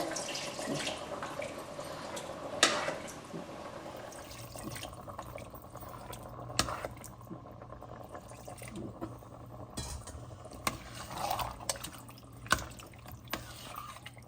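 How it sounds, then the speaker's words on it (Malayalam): Water is poured into a pressure cooker of chicken curry with a soft splashing stream, then a few quiet drips and faint kitchen clinks follow. "കുറച്ച് വെള്ളം കൂടി ഒഴിക്കാം നമുക്കിതിൽ"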